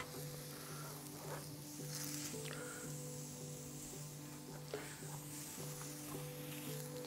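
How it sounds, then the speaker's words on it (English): Scallops sizzle on a wood-fired Vulcanus grill, a steady, close frying hiss that carries evenly with a few faint clicks and crackles from the fire, and no one speaks. "Sizzle on."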